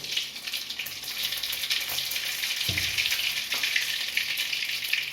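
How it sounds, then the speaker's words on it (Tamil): Mustard seeds splutter in hot oil in a pan, a steady sizzle punctuated by a few sharper pops and crackles, close and moderately loud with no talking. "கடுகு பொரிஞ்சதுக்கப்புறம்"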